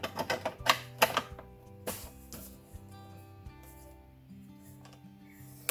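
Folds scored into photo paper with a small pusher tool for a pop-up album cascade, a quick series of sharp close clicks and taps at the start, then quieter scattered ticks over a soft music bed.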